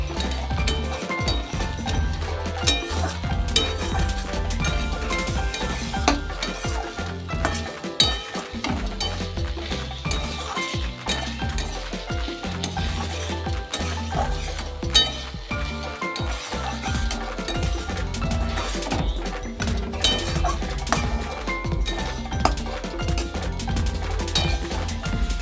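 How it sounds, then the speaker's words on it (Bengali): Banana flower curry is stirred in a cooking pot over heat: a continuous sizzle and frying hiss with repeated clinks and scrapes of a spoon against the pot, steady throughout. "মা ঢাকনাটি খুলে আরো ভালো করে নাড়াচাড়া করে নিল।"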